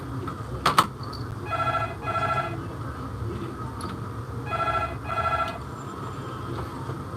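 A telephone rings twice in two-burst trills against a steady background hiss, moderately loud, with a faint click just before the first ring.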